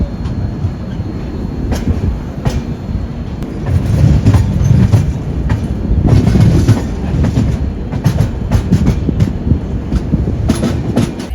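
Inside a third AC coach of the Dakshin Express on an Indian railway, a loud steady rumble of the running train with rhythmic wheel clatter and occasional metallic squeals, no voices.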